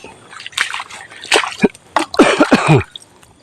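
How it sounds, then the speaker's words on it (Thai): Water splashes and sloshes in bursts while a bottle is rinsed out outdoors, a few close, irregular washes with short pauses between, and faint voices in the background. "ล้างขวดก่อนครับ"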